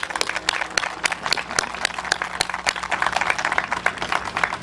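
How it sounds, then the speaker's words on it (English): Audience applauding a cadet color guard at a civic ceremony, steady dense clapping filling the whole stretch at moderate volume, with no talk over it. "And let's give them a round of applause."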